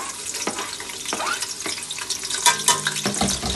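Chopped onions dropped into hot oil in a home kitchen for Tahari-style potato and chickpea pilau, with a steady close sizzle broken by scraping stirs and a few sharp clinks partway through.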